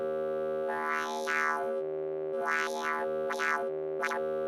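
A vowel-shaped wavetable synth tone from Serum 2 sustains a steady pitch while its timbre morphs in talk-like swells, with four distinct sweeps, close and alone.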